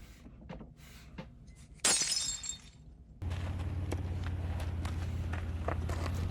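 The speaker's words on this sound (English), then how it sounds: "right there with the broken glass and the running" Glass breaking in a short film, a sharp shattering crash followed by tinkling debris, then a steady low rumble with quick running footsteps patting along.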